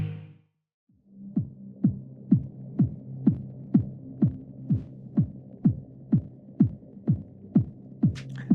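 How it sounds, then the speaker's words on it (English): Heartbeat-style music from the video game Heaven Will Be Mine: a steady, regular throbbing pulse of low thumps, about two per second, repeating alone after a short silent gap at the start. "there's the heartbeat music"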